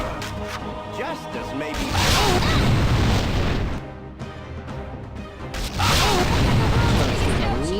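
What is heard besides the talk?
magic missile spell cast in Baldur's Gate video game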